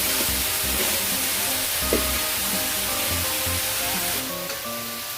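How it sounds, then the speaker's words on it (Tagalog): Chop suey vegetables, with peas and cabbage among them, sautéing in a pan, giving a steady close sizzle and frying hiss throughout with occasional stirring clatter and no talking. "Patuloy pa itong igisa-gisa ng 1 minuto."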